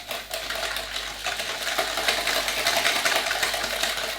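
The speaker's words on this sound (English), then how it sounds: "We're going to whisk it together until it's kind of, well, nice and light and fluffy." Crème brûlée mixture is whisked in a bowl until pale and fluffy, a close, fast, continuous whirring and rattling churn with a low motor-like hum underneath.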